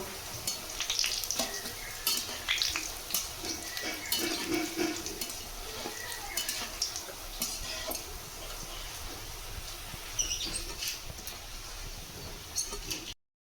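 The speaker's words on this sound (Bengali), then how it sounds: "একবার ভেজে তুলে নিয়েছি আবার একবার ভেজে নেবো" Boondi droplets of batter frying in hot oil for motichoor laddu, a dense continuous sizzle with crackling ticks and occasional stirring, close and steady throughout.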